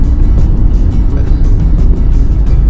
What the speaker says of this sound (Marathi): full traffic jam in Lonavala